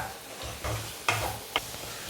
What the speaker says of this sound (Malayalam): വെണ്ടയ്ക്കയും ചേർത്ത് ചെറുതായിട്ടൊന്ന് നമുക്ക് ഇളക്കി കൊടുക്കാം.